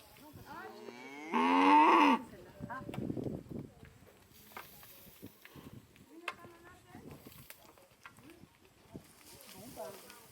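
Cows moo loudly near fences in the Congo, one strong bellowing call early on followed by softer lowing and scattered knocks, with people talking in the background.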